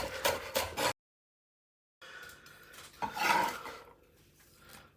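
A knife trims the end off a spring onion on a chopping board in a home kitchen, giving a few close, soft rasping cuts, then a short silent gap and more scraping and rubbing.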